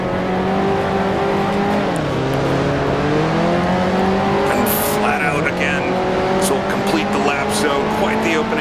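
A 1955 Formula One car in the Grand Prix Legends racing game brakes hard and drops down through the gears for a chicane, its loud engine note stepping down with each shift under a steady roar, with a voice talking over it.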